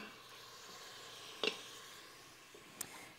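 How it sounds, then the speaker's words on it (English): Beef for a bourguignon browns in a hot pan with a quiet steady sizzle, broken by two sharp clinks or stirring knocks near the middle and end. "All right, so we're browning this off."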